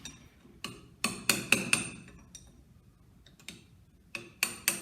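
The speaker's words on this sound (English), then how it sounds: "I'm gonna tap on it just a little bit more, just to make sure it's down all right" Tapping an A/C compressor clutch into place on a GM V5 compressor: a series of sharp metallic hammer taps, some single and some in quick pairs or triplets, spaced across the clip with quiet gaps between.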